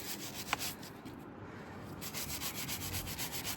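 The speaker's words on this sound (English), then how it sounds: "now I'm going to agitate it with a nylon brush" A nylon brush scrubs a neglected, rusty motorcycle chain with O-rings, giving a steady close rasping rub that pulses in short repeated strokes, with one sharp tick early on.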